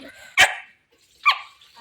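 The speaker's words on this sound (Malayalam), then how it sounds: "അത് ഒരു പട്ടി" Two sharp dog barks, close and loud, separated by a short pause of near silence.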